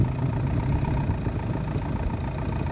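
A car on Falken HS449 snow tyres drives through deep snow, giving a continuous low rumbling engine and tyre drone at a steady level with no talk.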